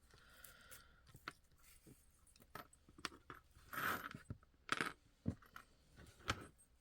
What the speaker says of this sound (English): I get these very large, heavy-duty jump rings